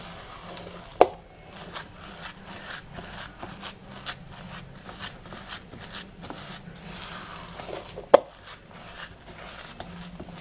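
Hot basbousa semolina dough mixed by hand, a close, quiet run of rhythmic rubbing and squishing strokes, with two sharper knocks standing out along the way.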